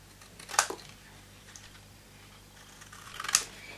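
Card pieces are cut in half for a Christmas tree box, giving two sharp, close trimmer or scissor cuts separated by a quiet pause.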